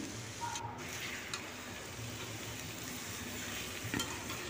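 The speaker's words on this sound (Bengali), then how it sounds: "এরপর ভেজে রাখা বরবটি আর আলুটা দিয়ে দিচ্ছি। দিয়ে ভালো করে মিশিয়ে" Fried long beans and potatoes stirred into sizzling spices in a pan, a steady close frying hiss with scraping stir strokes and a couple of soft utensil clinks, no talking.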